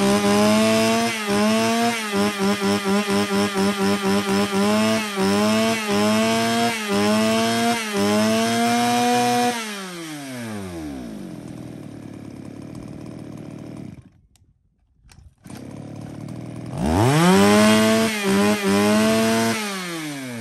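A used Japanese chainsaw cutting wood, loud and close. The two-stroke engine revs in rhythmic pulses, then winds down and falls silent briefly before revving up strongly again.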